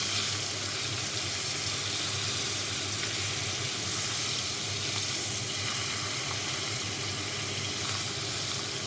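Dutch steak fries in a pan with a steady, dense sizzle and hiss that holds at an even level for the whole stretch, close up and with no talking.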